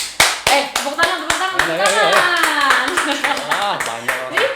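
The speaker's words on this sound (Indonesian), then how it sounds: "Tepuk tangan." Studio audience and hosts clap their hands at the opening of a podcast, a run of sharp, close claps that starts crisp and keeps going under a cheerful voice talking over it.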